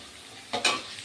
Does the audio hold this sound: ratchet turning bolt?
no